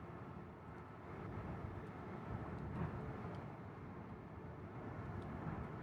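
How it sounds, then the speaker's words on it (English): Jet engines of a player-built aircraft in the game Aviassembly, a steady broad roar flying fast, fairly quiet and unbroken with no talk. "These jet engines are way more powerful than I expected."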